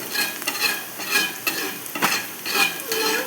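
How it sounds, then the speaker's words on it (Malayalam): Curry being stirred in a pot after a glass of water is added, with repeated scraping strokes over a steady sizzle, close and fairly loud, with no talking. "ഒരു ഗ്ലാസ് വെള്ളം ഒഴിച്ചു ഒന്ന് നന്നായിട്ട് ഇളക്കുന്നുണ്ട്"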